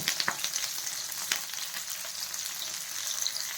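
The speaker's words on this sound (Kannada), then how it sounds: "ಫ್ಲೇಮಲ್ಲಿಟ್ಟು ಫ್ರೈ ಮಾಡ್ಕೊಳ್ಳಿ." Okra (lady's finger) with curry leaves sizzles and crackles steadily in a hot pan on the flame, with a few sharper pops and stirring clicks, close and continuous.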